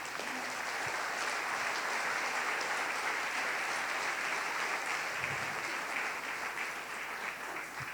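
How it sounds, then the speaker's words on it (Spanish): A church congregation at a Sunday service breaks into sustained applause, a dense, steady clapping that fills the room for several seconds and carries no speech. "Denle un aplauso al Rey, por favor."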